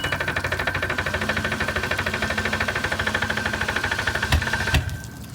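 A wrecked deep sea fishing boat's engine runs rough and loud with a steady, rapid knocking pulse throughout, then sputters with a couple of sharp bangs near the end as it falters.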